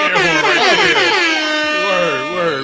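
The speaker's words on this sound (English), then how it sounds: "the air horn right there" A loud, blaring air horn sounds in repeated, wavering blasts that fill the whole clip.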